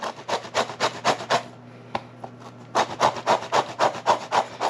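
A grapefruit rubbed over a large grater in the kitchen, rhythmic rasping strokes in two bursts separated by a short pause, close and fairly loud, with no voices.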